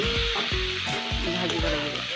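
Spiced bamboo shoot mixture sizzles steadily in a hot pan, with a few soft stirring scrapes and a quiet voice faintly in the background.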